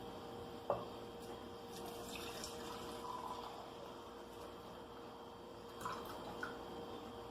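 Browned butter with its brown bits poured into a bowl during cookie baking, a faint, quiet liquid trickle with a couple of soft taps against the bowl, heard alone.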